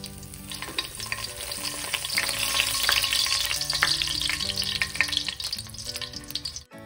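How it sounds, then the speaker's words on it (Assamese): Cardamom pods and bay leaves fry in hot oil with a steady, crackling sizzle that holds loud throughout, broken by small pops and brief stirring scrapes. "তেলখিনি আমাৰ গৰম হৈ গ'ল। এতিয়া ইলাচি কেইটা দি দিওঁ।"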